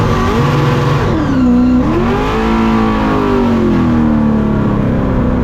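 A Formula Drift car's engine roars loudly and continuously with the throttle stuck wide open after a melted throttle cable, its pitch wavering and sliding up and down with a gritty, dense tone.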